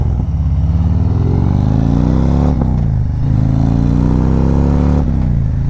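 A Harley-Davidson CVO motorcycle accelerates hard through a 0 to 60 run. The engine roars loud and close, with its pitch climbing through the gears and two clear dips at the shifts, and nobody talks.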